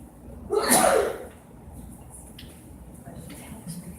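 A single loud sneeze bursts out near the start, followed by quiet room tone with faint, low background murmur.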